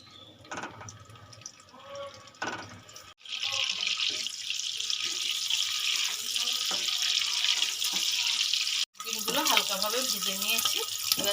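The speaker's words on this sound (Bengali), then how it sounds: "তেলটা গরম হয়ে গেছে আমি ডিমগুলো হালকা করে ভেজে নেব" Eggs frying in hot oil in a wok for a Bengali egg mustard curry give a loud, steady hiss that starts abruptly and continues with one short break. A voice is briefly heard near the end.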